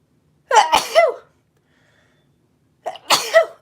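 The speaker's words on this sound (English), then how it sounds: "Oh, I gotta sneeze." A person sneezes twice, close and loud, each sneeze a sharp voiced burst, with a quiet pause between them.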